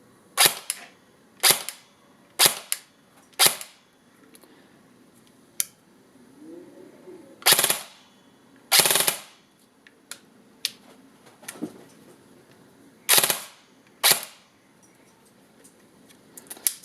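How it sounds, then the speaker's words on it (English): VFC M4A1 RIS II airsoft rifle test firing, with sharp, loud shots in short bursts and single pops spread irregularly, a slightly whiny motor between them, no talking. "I'll test fire this a little bit for you so you can kind of hear it"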